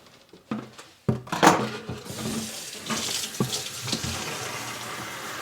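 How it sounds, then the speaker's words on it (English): Water is poured onto seed-starting trays of soil mix, giving a splashing, trickling gush that starts abruptly, swells, then settles into a steady pour, close by. "I'm going to put a little bit more water on each of these trays before we even set seeds in them"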